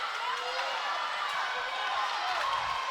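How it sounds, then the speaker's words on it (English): Spectators at a girls' high school swim and dive meet cheer and shout in a steady, roaring wash of indoor crowd noise that runs throughout without a break. "Listen to the crowd."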